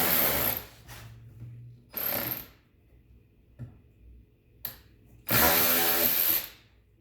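Several bursts of a power drill with a step drill bit whirring through metal, short runs separated by pauses, the last one longer, close and loud.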